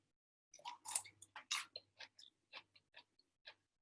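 A homemade pickled cucumber is bitten and chewed up close, giving a string of about a dozen crisp, wet crunches in an uneven rhythm over near silence.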